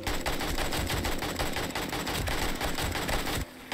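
Rapid automatic AK rifle fire in the 7 Days To Die video game, a dense, loud stream of shots rattling continuously for over three seconds before a brief break.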